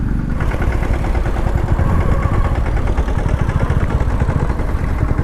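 A motorcycle engine runs steadily in first gear through deep, slippery mud, a loud close-up chugging drone with rapid pulsing and no break.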